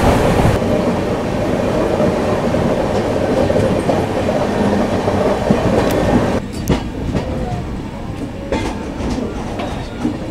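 Heard from inside a sleeper coach of the Samudrokanya Express running from Digha to Puri, a loud, continuous rolling rumble carries rhythmic wheel clatter, and the sound shifts and grows sparser partway through.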